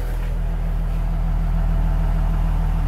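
A car engine idles steadily on compressor-pressure injector cleaning mixture, with a low, even rumble and constant throb, no voices, holding the same level throughout.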